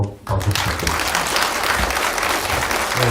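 Audience applause at a public history forum, after the second presenter, an editor-in-chief, finishes his talk. Dense, steady clapping from a seated crowd starts almost at once and runs loud and continuous throughout, with no talk over it.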